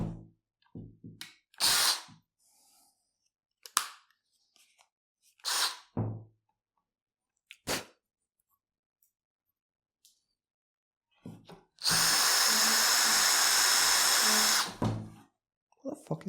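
Power drill used while building a workbench: several short bursts of drilling, then one sustained loud whir of about three seconds near the end, with scattered thuds and pauses between.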